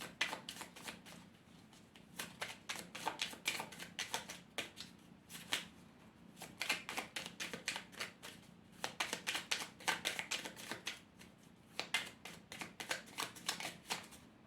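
Oracle cards are shuffled and drawn in long, rapid bursts of papery riffling and flicking, separated by short pauses, close and steady throughout.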